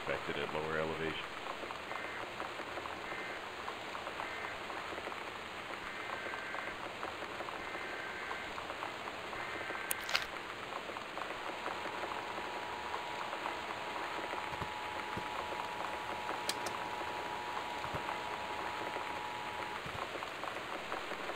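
Torrential rain in the video game Gone Home, a steady, soft, even hiss of downpour that runs unbroken throughout, with a couple of brief faint clicks and no voices.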